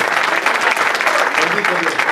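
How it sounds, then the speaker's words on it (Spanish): A church congregation claps together in a quick, loud, continuous burst of applause, with voices mixed in beneath the clapping. "Dale un aplauso al Señor"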